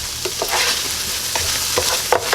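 Spam breakfast fajitas frying in a pan, a loud dense sizzle with a few scraping stirs of a utensil, close up and continuous, without voices.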